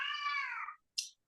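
A pet cat gives a drawn-out, lonely meow, close and clear, followed by two short chirping cries in an otherwise quiet room.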